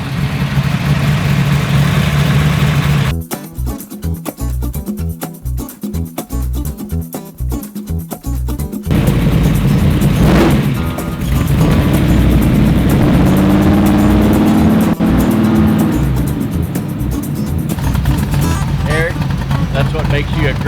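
A 1957 Gasser hot rod idles with a deep, loping rumble, then revs and pulls away loudly up the street. The engine noise keeps shifting between low idle and harder bursts, and voices talk over parts of it.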